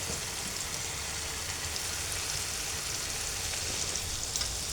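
Dried fish (shutki) frying in a pan, a steady broadband sizzle and crackle that holds evenly throughout, close and moderately loud with no voices.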